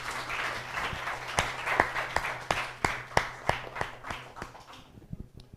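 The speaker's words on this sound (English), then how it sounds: "please, big round of applause to today's founders" Applause from an evening audience at a founders and investors event, a thin patter of individual claps with a few sharp ones standing out, fading away near the end.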